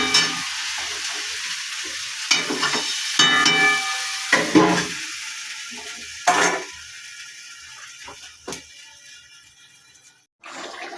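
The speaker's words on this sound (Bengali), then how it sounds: "মাংসটা আমি এইভাবে আধ ঘন্টা কষিয়ে নেব।" Meat being stirred and slow-fried in a pan, with repeated scraping strokes of a utensil over a steady sizzle, each stir a short loud burst before the frying settles back; close and alone, no voices.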